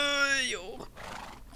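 A horse in the Minecraft video game gives one loud, close whinny that drops in pitch, followed by softer rustling noise.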